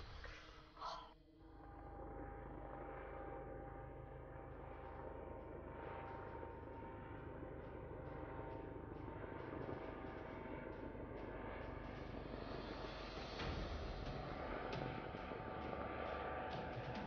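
A steady, loud engine drone from a propeller airplane flying overhead in a video game holds throughout, preceded by a brief breathy burst at the start.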